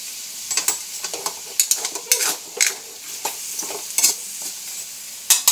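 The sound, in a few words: stirring and frying string beans with green chili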